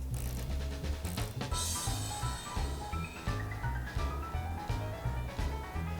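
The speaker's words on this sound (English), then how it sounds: "remove the negative battery cable from the negative terminal. You'll need a 10mm wrench for that." A 10mm wrench works the negative battery cable clamp loose on a 2006 Toyota Scion xA, giving a string of close, rhythmic ratcheting clicks and metallic turns that repeat steadily throughout.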